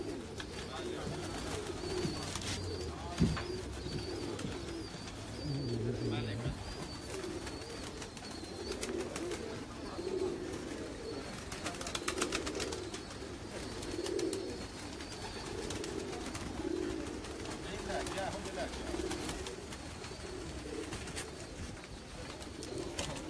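Nildumba pigeons cooing, a repeated low throaty coo rising and falling in a steady rhythm every few seconds, soft and fairly close.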